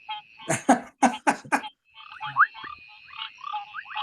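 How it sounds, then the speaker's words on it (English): Several Mozambique frogs (Ticadina mozambica) call in the wild: a run of sharp, rhythmic croaks, then a busier overlapping chorus of shorter calls over a steady high insect-like tone, moderately distant. "there's a couple of frogs going on there that wah, wah, wah, wah"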